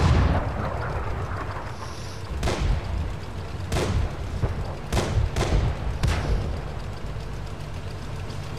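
Tank exploding in a World War II tank game, a run of deep booming blasts and heavy thuds over a constant low engine rumble, several strikes spaced a second or so apart, loud and close.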